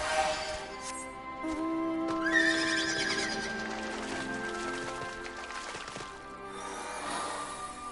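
A horse whinnies in Final Fantasy XIV over a busy musical backdrop, its high neigh rising and falling before fading, with scattered thuds and clatter.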